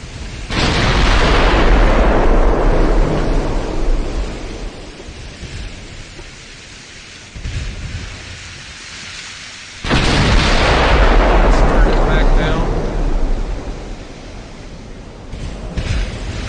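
Heavy naval gunfire in a video game, with two big booming blasts of shell hits and cannon fire that each roll off into a long rumbling decay, loud and close, with no talk.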